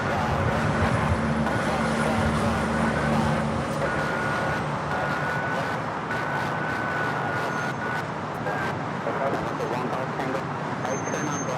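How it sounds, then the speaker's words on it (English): A Boeing 787-9 Dreamliner takes off at LAX, a continuous broad jet roar with a low rumble and faint whining tones holding steady throughout, heard from a distance amid a voice talking. "Airlines 2361 taking off to Newark on the 787-9 Dreamliner."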